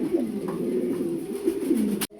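Pigeons at a farm coo in a continuous series of low rolling calls, close and fairly loud, ending with an abrupt click and cutoff.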